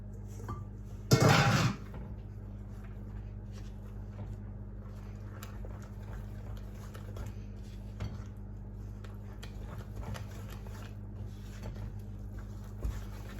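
Flour being mixed into carrot cake batter in a bowl, with one loud clatter of a utensil against the bowl near the start, then soft, faint stirring and scraping that continues quietly.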